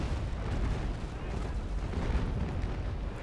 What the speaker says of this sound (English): he's again doing the broadside